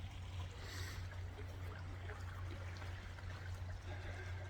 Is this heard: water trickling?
yes